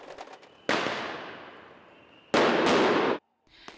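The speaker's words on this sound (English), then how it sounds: "demonstrators were seen aiming fireworks at police officers, while police fired tear gas and deployed a water cannon in return" Fireworks fired by protesters at police in Tbilisi during a street demonstration: two loud, sudden bursts of crackling hiss, the first fading over about a second and a half, the second shorter and more dense.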